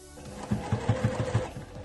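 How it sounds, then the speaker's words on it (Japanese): A domestic sewing machine stitches down the sides of a fabric tote bag, giving a quick run of about six evenly spaced mechanical thumps over a low motor hum, close up. "この両脇をミシンでステッチかけていきます。"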